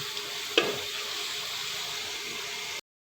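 Onions browning in a pan for kadhi pakora give a steady close sizzle with one sharp clink early on, then the sound cuts off abruptly before the end.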